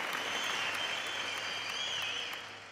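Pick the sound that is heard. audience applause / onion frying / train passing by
audience applause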